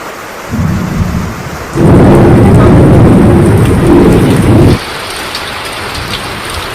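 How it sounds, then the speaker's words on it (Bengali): Heavy rain pours down steadily and loudly, swelling with a deep rumble of thunder through the middle before easing back to a constant downpour. "জোরে বৃষ্টি হচ্ছে"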